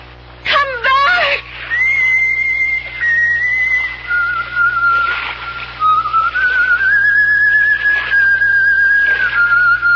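In a radio drama, a ghostly woman's wavering, eerie whistle drifts in long sliding tones after a brief moan-like cry, clear and fairly close, with faint breathy noises between phrases.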